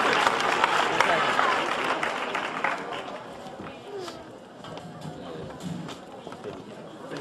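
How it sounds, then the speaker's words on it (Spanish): Audience at a film fan event in Barcelona applauding loudly, the clapping strongest at first and then fading into scattered claps and crowd noise. "Un aplauso muy fuerte para ellas tres."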